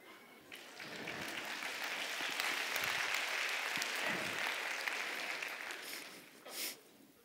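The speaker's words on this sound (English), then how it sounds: "I hope you're clapping because you disagree with that statement." An audience at a talk on animal minds claps for several seconds, a dense steady patter that swells and holds before tapering off near the end.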